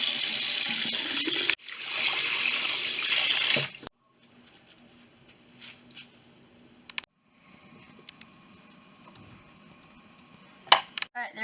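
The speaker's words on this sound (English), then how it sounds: "you clean the soldering iron with this wet sponge. First, we're going to need to get it wet first." Water runs from a tap to wet a soldering iron cleaning sponge in a loud, steady gush that stops abruptly. Faint handling clicks and small knocks follow in near silence.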